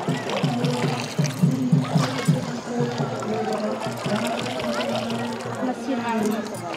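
Water poured as a Chhath festival offering trickles and splashes steadily nearby, a continuous liquid stream running beneath people talking.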